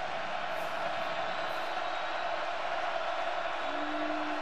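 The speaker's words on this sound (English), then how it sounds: "Crowd revved up." Stadium crowd at a Baylor versus Kansas State college football game, a dense, steady roar of cheering and whooping heard from within the stands, with a faint tone emerging late.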